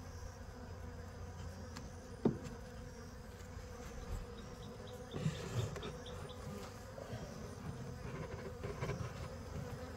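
Honey bees hum on a hive frame during an inspection, a low, continuous buzzing drone that fills the background, with a couple of slightly louder swells and no voices.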